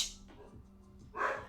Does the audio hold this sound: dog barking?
yes